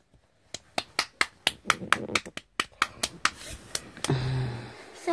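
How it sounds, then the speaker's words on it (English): Around fifteen sharp, close hand claps ring out at a quick, slightly uneven pace. Indoor noise and a brief voice follow at the end. "Big clap."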